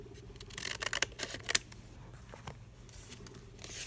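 Scissors cutting lace for a journal page, a quick cluster of crisp close snips followed by a few softer scattered clicks and rustles, with no talking.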